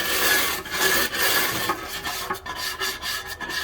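A nylon brush rubs soap into the Teflon plates of a George Foreman stand-up grill, giving a steady close rasping scrub with short pauses and strokes, no talk.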